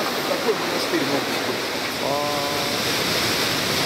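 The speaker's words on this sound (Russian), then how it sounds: "Вот водопад двух сестер." The Two Sisters falls at Iguazu roar as a steady broadband wash of falling water, with a faint voice speaking briefly over it.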